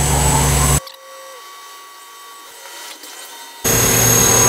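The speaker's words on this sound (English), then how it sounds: "This is drilling the hole for the M5 hole." A loud CNC machine roar cuts out, leaving a quiet stretch with a faint high whine and soft mechanical hum before the loud noise returns, while drilling an M5 hole in a bicycle hub shell.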